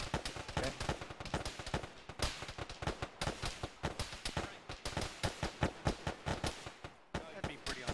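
Machine gun fire crackles in rapid, uneven bursts throughout ShackTac Arma gameplay, loud and close, with people talking over the shooting.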